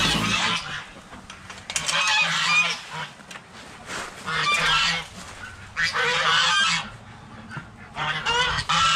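Waterfowl honking outdoors on a snowy morning, loud repeated bursts of calls arriving in several clustered waves with quieter gaps between them.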